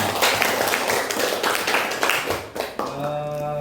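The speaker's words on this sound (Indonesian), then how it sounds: "tepuk tangan untuk anak Neja." A short round of classroom applause for a student during a lesson on electric circuits, a lively cluster of children's clapping that tapers off as a voice and a tone come in.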